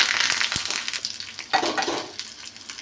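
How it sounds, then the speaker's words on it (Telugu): Mustard seeds crackle and sizzle in a spoonful of hot oil for a tempering while cooking ponnaganti leaf dal, with bright, busy frying noise, scattered pops and a few stirring scrapes, loud and close, no talk. "ఆయిల్ అనేది ఒక స్పూన్ యాడ్ చేశాక ఇలాగా ఆవాలు"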